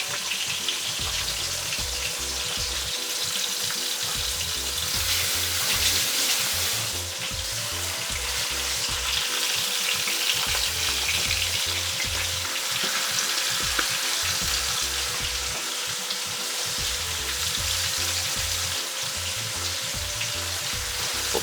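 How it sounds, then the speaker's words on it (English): Continuous loud sizzling of okra and eggplant frying in a hot pan, steady and close, with occasional faint clinks in the background. "so we'll just leave that frying for a bit"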